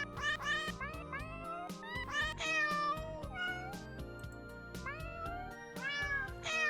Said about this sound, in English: There's 2 cats.